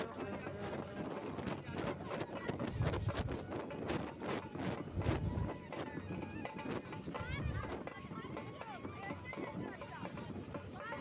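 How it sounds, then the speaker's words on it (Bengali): Strong wind roars and buffets the microphone while riding on a moving music vehicle at an outdoor festival outing, with voices and a muffled beat mixed into the blustery noise. "আর হাওয়া দিচ্ছিল তো খুব ঠান্ডা লাগছিল"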